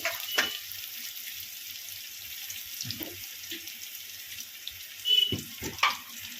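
Boiled potato goes into hot oil in a pan for sabudana khichdi, giving a soft steady sizzle with a few sharper spatters and clatters of the food landing, near and free of talk.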